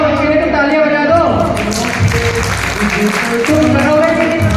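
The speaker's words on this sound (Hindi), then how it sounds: "जिन्होंने मेहनत करी है उसके लिए तो तालियां बजा दो" Applause at an award function, a crowd clapping loudly and continuously, with voices talking and calling out over the clapping throughout.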